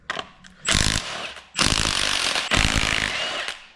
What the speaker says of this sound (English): you need to have your impact set to tighten in order to pull these off